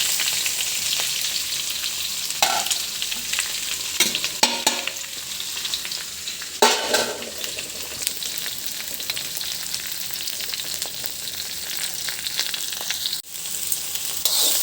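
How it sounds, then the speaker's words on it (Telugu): Okra frying in oil while being stirred, a continuous loud sizzle with occasional scraping strokes of the spoon, close and steady throughout. "ఇప్పుడు బెండకాయలు వేసేయాలి."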